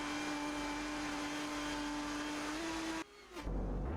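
Racing car engine in an F2 video game race at the Greek Grand Prix, heading into the pits, holding a steady loud droning whine that breaks off abruptly into a lower rumble near the end.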